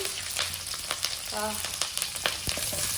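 Curry leaves, garlic, green chillies and onion frying in oil for a coastal-style okra stir-fry, a steady close sizzle with scattered crackles and a brief tonal clink midway, no voices.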